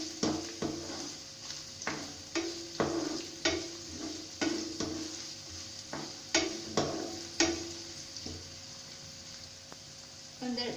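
Thickly chopped onions frying in a pan, a low steady sizzle with regular scraping stirs of a spoon every second or so, close but fairly quiet, with no speech.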